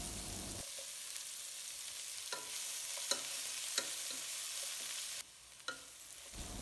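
Chopped shallots and onions sauté with ginger and garlic for pepper chicken, making a quiet, steady sizzle with scattered soft scrapes and taps from stirring. No one speaks.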